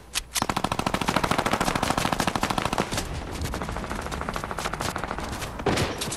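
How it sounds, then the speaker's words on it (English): Rapid machine-gun fire in a video game rattles out in a long dense burst, then continues as sparser, slightly more distant volleys of shots, loud and unbroken by talking. "the people are getting shot from behind"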